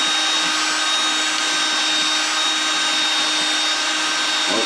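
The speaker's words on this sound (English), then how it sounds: "Don't drill through. Just clean out the hole." A drill cleaning out a tuner hole in a banjo peghead, a constant high whirring grind that holds steady before cutting off at the end.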